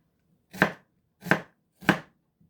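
A knife cuts through an onion on a cutting board in three crisp, evenly spaced chops, close and clear against near silence.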